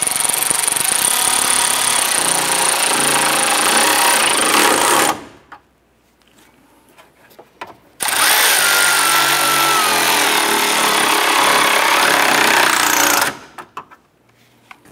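Power tool tightening radiator bolts on a 1993-1997 Ford Ranger: two loud, sustained whirring bursts of about five seconds each, close up, separated by a quiet pause.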